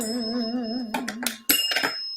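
A bell rung live for an online talk show, heard as a few bright metallic strikes with ringing overtones after a sustained tone, loud and close, with no talking over it.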